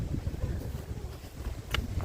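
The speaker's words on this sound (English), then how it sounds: "The wind continues to blow pretty good." Wind gusts along a wooded ridge line, a soft, continuous rushing with buffeting against the microphone and a brief brighter gust near the end, with no voices.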